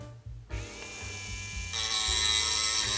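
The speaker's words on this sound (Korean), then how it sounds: "사포가 이제 들어가기 힘든 부분이니까 전동 공구를 한번 제가 갈아보도록 하겠습니다" A rotary power tool whines continuously and loudly while grinding a seam on a plastic model kit, the pitch rising slightly as it bites, with no talking.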